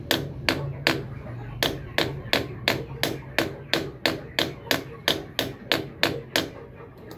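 A rivet on a TMX or Skygo 150 motorcycle rubber damper is hammered with a rapid, steady series of about twenty close, sharp metallic taps, evenly spaced and ringing briefly over a low background hum.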